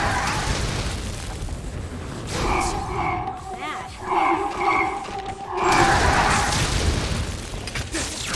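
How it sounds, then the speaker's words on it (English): Enemy explosions in the video game Scarlet Nexus, a string of booming blasts and rumbling bursts layered with game effects and voiced dialogue, loudest near the end. "You'll get caught in its explosion."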